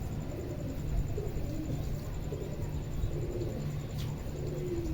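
Pigeons cooing in a loft among scattered feed grain, soft low coos repeating faintly under a steady background hum, with no talk.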